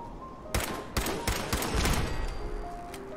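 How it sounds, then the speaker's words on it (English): Automated turrets in Fallout 4 open fire in a rapid run of sharp gunshots, about half a dozen close cracks in quick succession with a rattling tail, no talking. "Turrets are shooting at the puppy."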